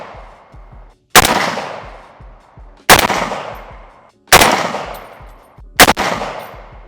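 Four sharp rifle shots ring out outdoors at a range while an LPVO scope is being zeroed, each a loud crack followed by a decaying echo and spaced a second or more apart.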